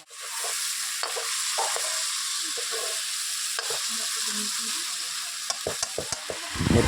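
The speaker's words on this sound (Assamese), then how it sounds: "তাৰপিছত মাংসটো লগালোঁ আৰু মাংসটো ফ্ৰাই কৰি" Meat frying in a pan with onions, a continuous close sizzle punctuated by sharp scraping strokes of a stirring spoon, a cluster of clacks toward the end, no talk.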